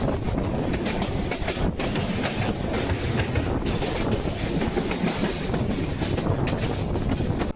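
The Brahmaputra Express passenger train, Jamalpur to Dhaka, rumbles steadily at speed through Satkamaya railway station without stopping: a dense roar of wheels and rattling carriages with faint rhythmic clatter, loud and continuous with no talking.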